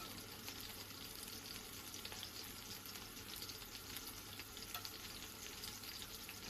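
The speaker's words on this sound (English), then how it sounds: "while the pieces of fish, slices of fish are being cooked" Slices of fish fry in a pan as part of a fish and tofu stir fry with vegetables, giving a faint, steady sizzle that runs without a break.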